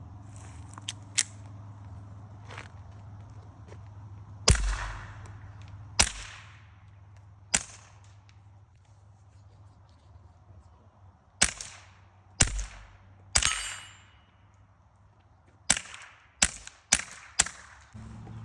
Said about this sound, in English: test firing 3D printed suppressor. This is PLA plastic.